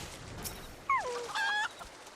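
A green chicken in the Final Fantasy XIV video game lets out two short, squawking clucks, one gliding down and one held, over quiet background ambience.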